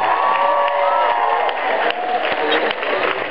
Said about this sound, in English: Let's give our friends out here and Mr. Neil Gaiman a big round of applause.